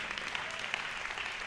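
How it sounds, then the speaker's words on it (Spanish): Church congregation clapping together during worship, a steady wash of hand claps held at moderate level for the whole moment with no speech. "Dele palmas al Señor en esta hora"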